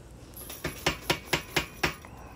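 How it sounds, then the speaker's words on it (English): A power hammer strikes hot steel while forging a small integral bolster knife, six sharp, evenly spaced blows ringing close and loud, each decaying quickly. "So I'll go so far with this power hammer"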